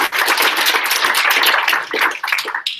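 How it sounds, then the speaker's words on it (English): Dense, continuous applause from a small audience fills a tech meetup room for a few seconds, close and loud, with no talking over it. "that's a round of applause for him as well."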